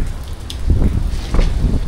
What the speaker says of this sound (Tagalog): Maulan pa rin sa labas.